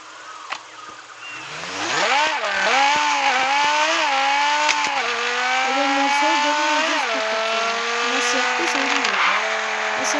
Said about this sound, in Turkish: gaz veriyorum egzoz patlatıyorum